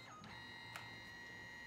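Kodak Photo Printer Dock with Wi-Fi applying the final coating to a printed photo, a faint steady mechanical whir with high tonal hum and a brief click midway, alone in a quiet room.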